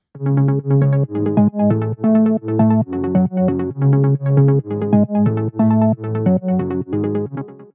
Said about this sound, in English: And then I've also added an harp,